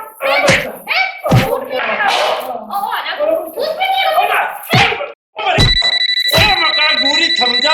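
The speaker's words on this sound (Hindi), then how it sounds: "अंगूरी थम जा, थोड़ा सा ब्रेक ले ले, फोन आ गया किसी का।" A telephone rings with a steady electronic tone near the end, right after a loud argument in Hindi with slaps and thumps.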